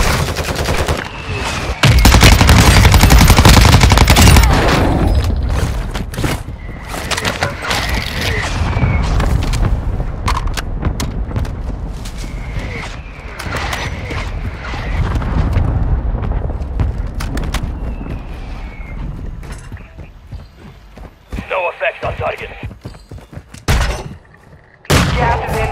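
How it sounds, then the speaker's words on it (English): A barrage of mortar strike explosions in Call of Duty Warzone, heavy booms and rumbling blasts that start loud and continue in waves, mixed with scattered gunfire and game effects for about twenty-five seconds. "Mortar strike on the way."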